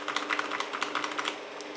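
Typing on an Epomaker GK68X 65% mechanical keyboard fitted with Gateron Brown switches lubed with grease: a quick, steady run of close, muted keystroke clacks, with no talk.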